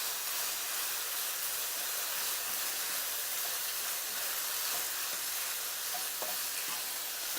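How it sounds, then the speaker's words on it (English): Half an onion sautéing with meat in a hot wok for gluten-free low-carb crack slaw: a constant, even sizzle and hiss, close and steady throughout, with no talking. "Let it get a little sauteed here."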